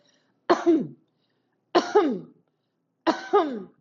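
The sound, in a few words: coughing and throat clearing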